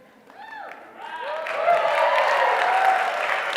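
A conference audience breaks into applause that builds from scattered claps into a dense, sustained roar of clapping, close and loud, with a few voices and whoops rising early on.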